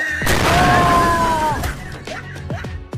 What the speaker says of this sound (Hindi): लो पटाखे फोड़ो